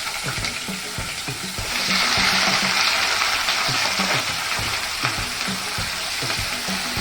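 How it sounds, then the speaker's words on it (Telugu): Broad beans hit hot oil seasoned with sesame, cumin, garlic, salt and turmeric, and a loud, close sizzle swells and holds as they are stirred in the pan. "నూనె వేడెక్కిన ఆయిల్ ఈ చిక్కుడుకాయలు వేసుకొని"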